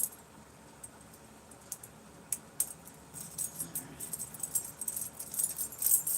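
A bunch of keys, including an old P.O. box key, jangles and clinks in bursts, faint at first and growing busier and louder toward the end.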